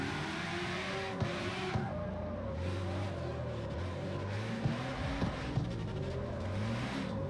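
Car engines in the video game CarX Street rev and whine continuously while drifting, pitch rising and falling as the cars slide around, with a steady mechanical drone and no talk.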